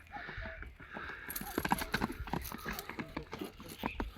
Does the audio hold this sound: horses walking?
yes